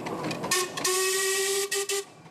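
Steam engines at an annual steam exhibition in Sheffield sound a loud steam whistle with a steady tonal blast that starts suddenly, runs for about a second and a half, then breaks into two short pulses, with mechanical noise beneath.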